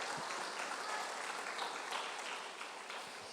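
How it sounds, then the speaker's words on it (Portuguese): A church congregation claps together during a Pentecostal-style sermon, a steady, soft wash of many hands heard from some distance and holding evenly throughout. "As palmas para Jesus"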